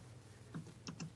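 A few soft, quick keystrokes tap on a computer keyboard in a quiet meeting room, faint and close, with no talk over them.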